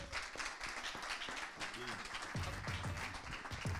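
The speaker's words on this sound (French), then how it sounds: "je vous demande, s'il vous plaît, de l'applaudir" Audience at a startup weekend event applauding a speaker, moderate steady clapping from many hands under a person talking nearby.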